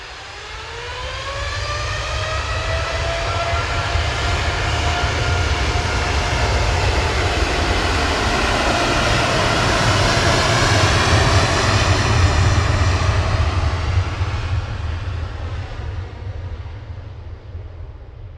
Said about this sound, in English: And as that 787 departs